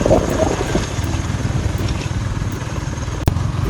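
A motorcycle ridden through rain gives a steady engine drone mixed with spattering rain and wind noise, close and continuous, with a brief knock near the end.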